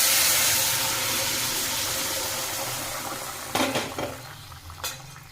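Spices tempered into hot oil for a vegetable and pea dal in a pan, with a steady low frying hiss and a couple of sharp sizzling bursts near the end as the seasoning hits the pan, no talking.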